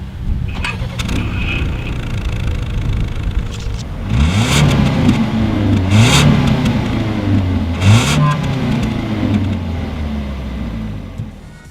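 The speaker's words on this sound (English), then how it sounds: "As always, here is that exhaust clip." A 2019 Ford Edge exhaust idles, then revs up in three rising bursts that settle back each time, loud and close.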